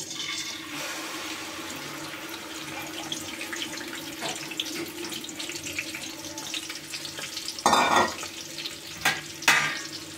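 Spice paste and green chillies fry in oil in a pan during village-style cooking, giving a steady close sizzle with watery bursts and a couple of louder hissing surges near the end.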